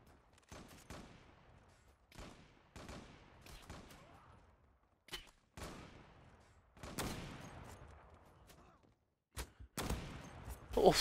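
Cheytac M200 sniper rifle shots in a no-scope match of a video game, a series of sharp, loud single cracks spaced a second or two apart, each with a fading tail, with no talk.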